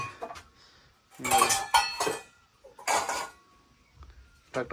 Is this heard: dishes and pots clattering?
yes